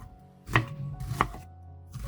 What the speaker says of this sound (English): After slicing, cut into thin strips.